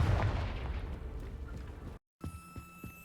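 A Confringo fire spell bursting in Hogwarts Legacy, a heavy rumbling blast fading over two seconds, then an abrupt silence followed by quieter game ambience with light thuds.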